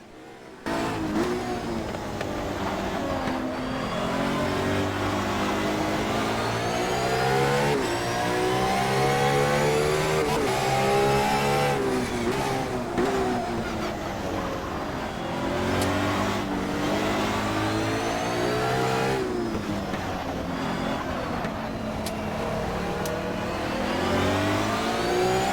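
STCC mod race cars in the Race 07 driving game: close engines rev up and down through the gears in repeated sweeping climbs and drops, loud and continuous without any talk.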